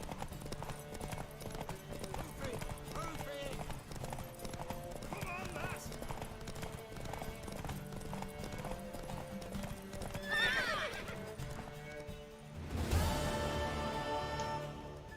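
Steady clip-clop of hooves at a quick gait in a video game horse race, with a horse's whinny near the end, while people talk over it.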